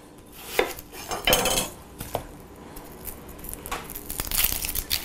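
An onion is sliced and peeled with a knife on a board, making quiet, irregular crisp cuts, taps and papery skin rustles.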